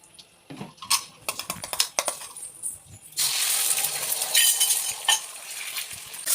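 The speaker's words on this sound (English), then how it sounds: "Oil on fry pan." Oil heats in a frying pan during a children's cookery demonstration; scattered clicks and taps give way to a loud, steady hiss of frying that carries on to the end, close by.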